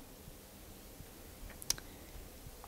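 A single crisp mouse click on an Install Now button while installing a WordPress plugin stands out briefly against an otherwise quiet, faint room background.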